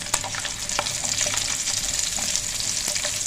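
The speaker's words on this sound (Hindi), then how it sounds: "अब हम इसमें डाल देंगे लहसुन, और फ्लेम आपकी बिल्कुल लो होनी चाहिए, वरना ज़ीरा जो है ये जल जाएगा" Garlic and cumin seeds fry in oil over a low flame for a tangy tamarind and green chilli chutney, giving a bright, close, continuous sizzle scattered with small pops, with no speech.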